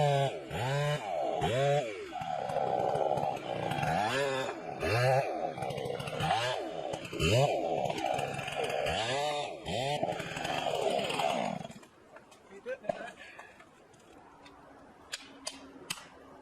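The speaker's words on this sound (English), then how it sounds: "Follow the manufacturer's instructions to start the chainsaw, and allow it to warm up before use." A chainsaw cuts into a big tree, the engine revving up and down in repeated loud surges for most of the run, then cutting out and leaving quieter scattered ticks and knocks.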